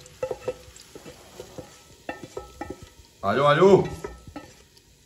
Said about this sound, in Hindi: अभी जाएगा जी इसके अंदर ये तड़के वाला प्याज